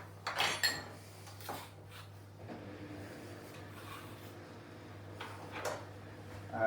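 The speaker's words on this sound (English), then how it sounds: "So get a spoon, stir it up together." Spoon stirring softened butter with chopped garlic in a bowl for Chicken Kiev, a few clinks and scrapes against the dish at the start, then quieter intermittent scraping under a low steady hum.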